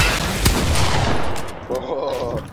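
Assault rifle gunfire in the Fortnite video game: a loud, dense burst of rapid shots that fills most of the moment, then trails off as a brief voice sounds near the end.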